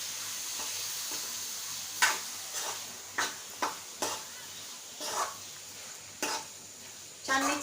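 Cleaned prawns stirred into masala in a pan over a low gas flame, with a soft steady sizzle broken by several distinct scraping and clanking stirs of the utensil against the pan.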